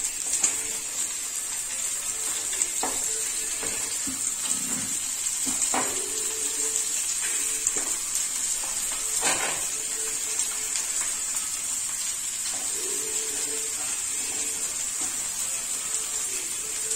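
Half a kilo of green beans sizzles steadily in hot coconut oil for a Sri Lankan beans curry, a constant close frying hiss with occasional soft clinks and stirring knocks.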